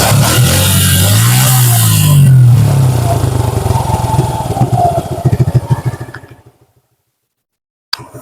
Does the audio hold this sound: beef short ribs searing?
no